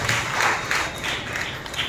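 A church congregation clapping their hands together, a sustained, fairly loud wash of applause with rhythmic swells, heard alone without voices.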